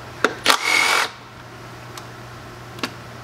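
A Milwaukee M12 FUEL power tool removing 10mm bolts near an engine's intake manifold gives a single short whirring burst, framed by a few faint metallic clicks and taps in a quiet space.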